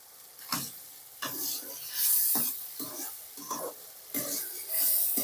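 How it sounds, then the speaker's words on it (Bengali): Dry red chillies crackle and sizzle in hot oil in a pan for a Bengali bele fish curry, loud bursts of frying interspersed with stirring scrapes. "আমরা ফাটিয়ে দুটো শুকনো লঙ্কা ফাটিয়ে দেবো"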